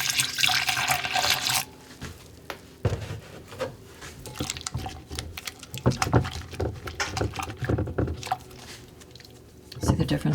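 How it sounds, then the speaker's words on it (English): Clean water is poured into a container to rinse berry-dyed quills, a continuous splashing rush that fades and returns in uneven surges, with talking over it. "And then I'm going to pour in some clean water."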